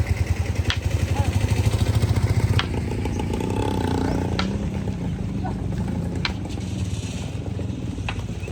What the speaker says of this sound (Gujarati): આ બાજુ બાપુ ટ્રેક્ટર હાકે છે મસ્ત મજાનું ભાઈ.